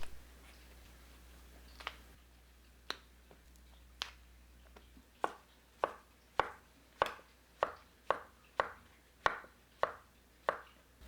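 Knife slicing onion and shiitake mushrooms on a board, first a few scattered cuts, then a quick, even series of crisp chops, close and clear with no talking.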